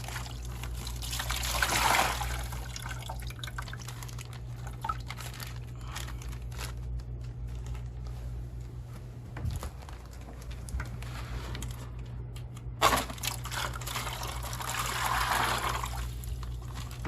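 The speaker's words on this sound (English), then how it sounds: "get these bags cut open and put into the bucket" Water trickles and dribbles from cut fish bags into a bucket while fish are added to a budget reef aquarium. Faint plastic crinkling and splashing come in soft bursts over a steady low hum.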